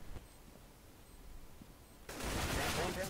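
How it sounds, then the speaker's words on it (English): Gunfire in the video game CS:GO on the Dust 2 map, a couple of faint shots early on, then a sudden loud burst of rapid firing near the end. "Two shots."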